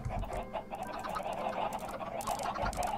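Chickens cluck continuously in the Minecraft video game, a busy overlapping flock of fowl calls with no speech, steady and fairly close throughout.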